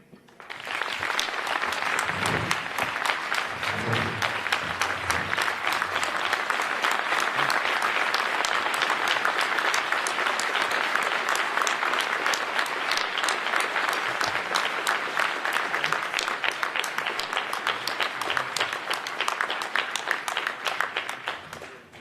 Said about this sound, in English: Another round of applause for this young man.